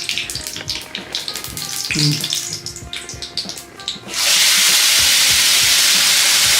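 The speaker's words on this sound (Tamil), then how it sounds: "இப்போ நான் அரைச்சி வச்சதை ஊற்ற போகிறேன்" Ground tomato chutney paste goes into hot oil already tempered with mustard seeds and curry leaves, setting off a sudden loud, steady hiss of sizzling after several seconds of crackling spatter.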